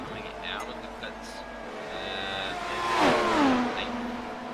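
In the iRacing Grand Prix Series at Interlagos, a race car accelerates out of the pits, its engine note climbing and sweeping through gears to a loud peak before easing off, beneath a commentator's steady talk.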